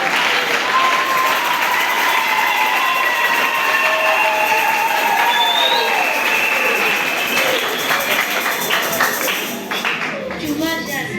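An audience at a Sunday school church theatre play on New Year's Eve applauds loudly and steadily, dense clapping filling the room, with voices calling out over it before it thins near the end.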